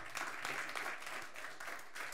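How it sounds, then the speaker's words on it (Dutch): Audience applause at a live Dutch stage show, a steady wash of clapping at moderate distance, continuous and even through the short stretch. "Geef hem nog één keer een groot applaus"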